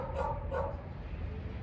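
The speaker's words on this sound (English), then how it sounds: "It's way better than having like an annoying barking dog in the background or something." A dog somewhere on a backyard chicken-keeping property gives two short yapping barks, faint and distant over a low background rumble.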